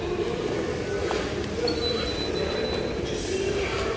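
Inside a Doha Metro train travelling between DECC station and Lusail Central, a steady low rumble of rolling wheels and motors fills the car, with a faint thin whine passing through midway.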